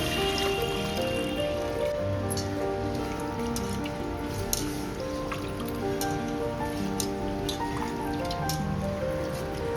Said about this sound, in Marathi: आता हे सगळं 2 ते 3 वेळा पाण्याने स्वच्छ धुवून घ्या